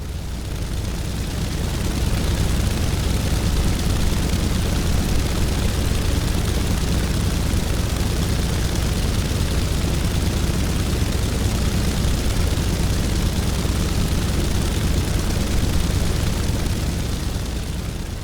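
A Beechcraft 17 Staggerwing's radial engine roars at full takeoff power in Microsoft Flight Simulator, a steady, loud, broadband drone that swells at the start and then holds constant.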